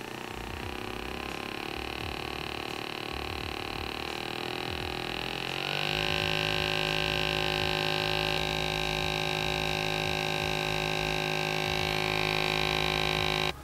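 Taotronics massage gun running steadily alone, a constant motorized buzz whose pitch and loudness step up partway through as the speed is raised from setting 1 toward 20, then holding at a higher, louder whine.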